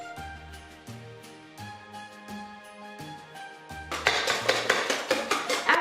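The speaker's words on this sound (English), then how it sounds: "we're just going to keep on whisking until it is nice and pale and fluffy" Eggs whisked in a bowl, a rapid run of light clinking, scraping strokes that grows louder and steadier over the last couple of seconds, heard close alongside a soft melodic music bed.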